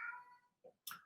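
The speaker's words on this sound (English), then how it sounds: "you can hear my cat in the background" A domestic cat meows in the background: a drawn-out, fairly faint call at the start, then two brief, quieter cries after a pause.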